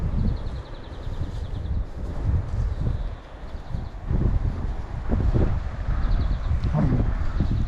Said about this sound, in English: Hopefully you can hear me above the wind noise.